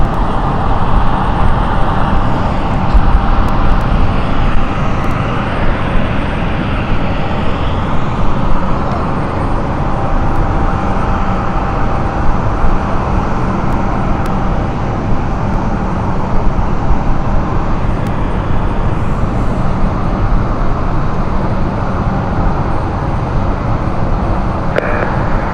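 Aircraft at London City Airport, a steady broadband engine roar holding at close range throughout, with no voices over it.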